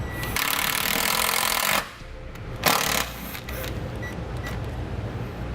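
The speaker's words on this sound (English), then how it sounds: "I'm going to pre-drill the hole first." A power drill whines in two bursts, pre-drilling into the steel of a 2014 Honda CR-V, then stops, leaving a low background rumble.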